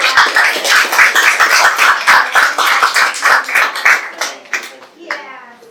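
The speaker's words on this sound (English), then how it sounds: "can we just give them a round of applause?" A small group at a psychic circle gathering gives a round of applause, close and fairly sparse clapping with audible individual hand claps that taper off, then a voice begins speaking.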